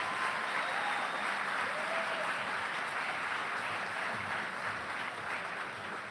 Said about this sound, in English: A round of applause for certificate and diploma candidates.